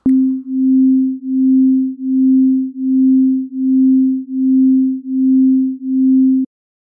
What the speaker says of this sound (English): as it moves, the positive values and the negative values will add differently to the original sound, which causes that pulsing sound